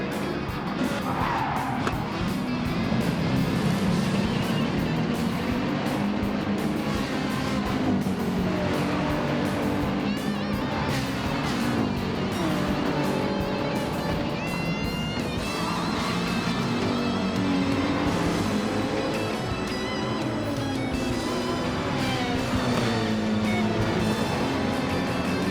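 Race car engines in a racing video game, including a Supra and a Ferrari, whine loudly and continuously. Shifting engine pitch blends with tire squeal and skidding across the whole stretch, with no talking.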